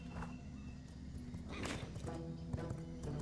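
A wounded horse riding off in V Rising, its hooves clip-clopping in a loose rhythm of light, muffled thuds under steady game ambience while someone talks.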